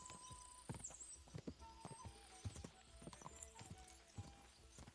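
Horse hooves clip-clopping in the video game Kingdom Come: Deliverance II, a quick steady run of crisp hoofbeats close by, with faint game ambience underneath.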